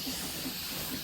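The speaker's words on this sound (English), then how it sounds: "the central steam engine" A steam engine in a video game, powered by blaze burners and fed with pumped water, gives off a constant airy hiss, with a soft low pulsing beneath it and no voices.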